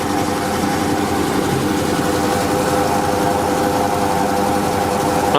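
A Porsche Cayenne engine idles steadily throughout a transmission fluid change, a constant low rumble with a faint harmonic hum, close and loud, with no talking.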